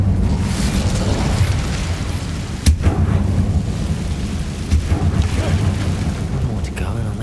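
An Incendio fire spell cast in the Hogwarts Legacy video game gives a steady roaring, crackling rumble throughout, with one sharp burst partway in and a few softer flares after, loud and close.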